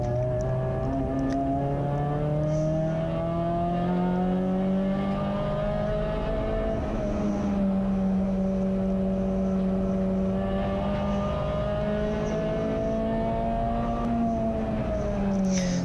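Racing cars at Anglesey in a CSCC race, a loud, sustained engine drone close by, rising and falling in pitch as the car brakes for a hairpin and powers out.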